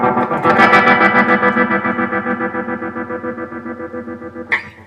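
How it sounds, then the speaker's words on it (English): Electric guitar played through an Electro Harmonix Stereo Pulsar tremolo pedal set to a square wave, its sustained distorted chord chopped into rapid, even on-off pulses that slowly fade, with a brief pick scrape near the end. "I really like the chopped up nature of the square wave"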